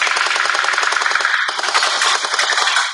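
A TOYAPY MP9 gel ball blaster fires in a rapid continuous burst, loud, close-up mechanical clatter of shots running for about three seconds with a brief hitch midway.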